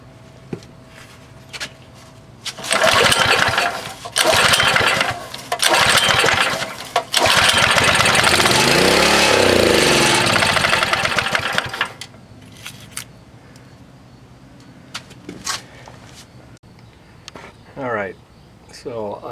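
A Baja minibike's small engine runs with the throttle about half open and the choke on, a loud buzzing rev in bursts that surges through the middle before dropping back to a quieter idle.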